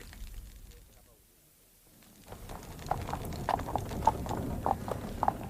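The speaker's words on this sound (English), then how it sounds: "A very expensive carriage, superb horses and a liveried footman." An expensive carriage drawn by superb horses pulls up in a Sherlock Holmes radio drama: after a quiet pause, clear rhythmic hoof clip-clops with rolling wheels come in and grow louder, close and steady.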